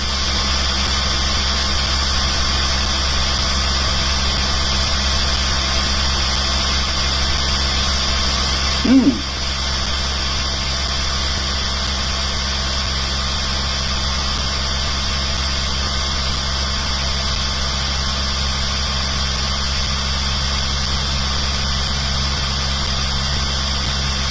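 A motor with a synchronous coil array hums steadily with a constant tonal drone while its speed climbs, and a brief knock sounds partway through.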